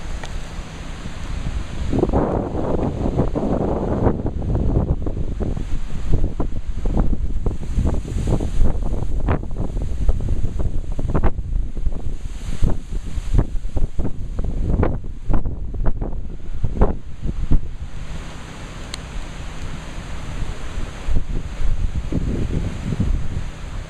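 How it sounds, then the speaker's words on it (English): Strong wind after Hurricane Irene in Lebanon, Pennsylvania, rushing and buffeting in continuous gusts with heavy rumbling mic noise, surging and easing across the clip with no talking. "still really windy out."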